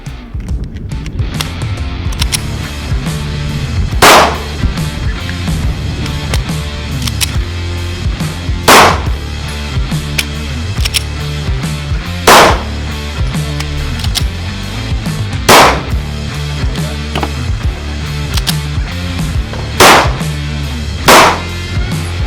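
Pistol shots at an outdoor shooting range: six loud, sharp single reports, each several seconds apart and fairly evenly spaced, with a low steady background between them.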